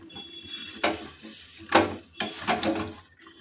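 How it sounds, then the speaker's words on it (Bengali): Snakehead fish pieces and potatoes being stirred in a wok over a low flame, with a few distinct scraping, clattering stirs against the pan spaced about a second apart over a soft sizzle. "এখন এটাকে আমরা মিনিট 10 ধরে লো ফ্লেমে এভাবে কষাতে থাকবো"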